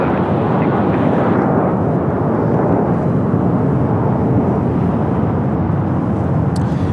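A Japan Airlines Boeing 787-9 Dreamliner jet arriving at LAX from Tokyo Narita, a loud, steady, broad roar of engines and rushing air that holds constant throughout, close and without talk.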